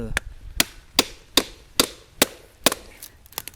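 A Bahco knife blade chops into wood in a series of about nine sharp, close, regularly spaced impacts, speeding up toward the end, with no talking.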